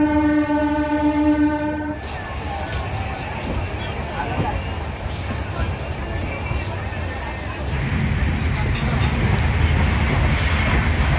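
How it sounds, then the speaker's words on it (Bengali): The 13145 Radhikapur Express, leaving a station between Kolkata and Ambika Kalna, sounds a long steady horn for about two seconds and then rolls on with a loud continuous rumble and rattle, the rumble deepening near the end. "তো চলুন বন্ধুরা ট্রেন আমাদের বেরিয়ে গেলো"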